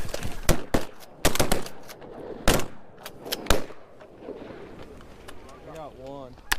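Several sharp shotgun blasts during a duck hunt, single shots and quick pairs spaced over a few seconds, with hunters talking between them and a duck call quacking near the end.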